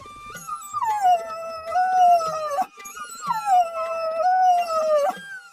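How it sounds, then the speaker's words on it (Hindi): A dog in distress howls nearby in two long mournful wails, each sliding down in pitch and wavering, loud and alone. "लगता है कोई कुत्ता पास ही है और वह किसी वजह से पीड़ित है"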